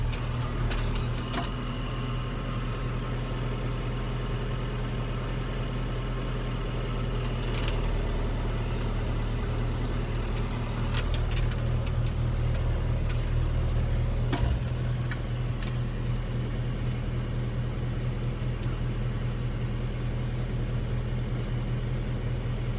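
A tractor engine idles with a steady low drone close by in a barn with young heifers, with scattered clanks and small knocks over the constant rumble.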